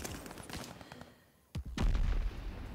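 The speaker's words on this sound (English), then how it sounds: "Throwing grenades at us and everything." Grenade blasts and gunfire in a Call of Duty Vanguard multiplayer match: scattered shots early, a lull, then a sharp explosion followed by a loud rumbling barrage of booms and firing.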